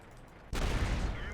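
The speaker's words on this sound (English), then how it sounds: "That 90mm gun making short work of him." A 90mm tank gun fires in World of Tanks, one sudden loud boom that cuts in after a quiet moment and rolls on with a long rumbling tail.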